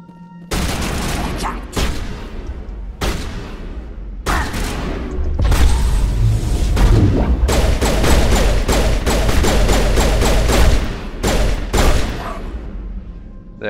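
Rapid bursts of video game gunfire from Mass Effect 1 crack loudly in quick succession, with short pauses between volleys and sustained sharp shots through the middle, mostly without talk.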